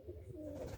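A Capuchine pigeon cooing nearby in Jamaica: a soft, low, rolling coo that rises and falls over under a second, with steady faint background noise.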